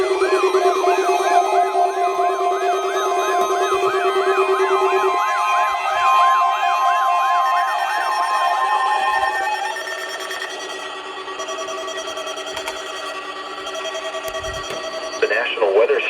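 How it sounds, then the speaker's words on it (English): A National Weather Service warning alarm test tone blares over the radio, opening with a warbling, siren-like wail over a steady low tone, then settling into a long, loud, steady tone that holds to the end. "The National Weather Service has just activated the warning alarm as a test."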